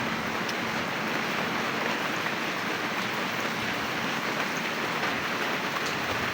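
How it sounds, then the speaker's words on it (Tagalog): Heavy rain pours down in a dense, steady hiss, with constant pattering of drops on surfaces close by and no break in the downpour. "Liguan na sa ulan."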